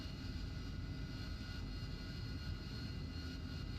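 A steady, even jet whine and roar from an AV-8B Harrier taxiing in the DCS flight simulator, continuous and quiet, holding constant with no voices over it.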